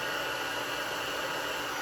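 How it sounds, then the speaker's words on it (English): Heat gun running on a low setting to melt embossing powder during papercrafting, a steady close hissing blower whoosh that stays even throughout with no talk. "I'm going to take my embossing powder away from my heat gun"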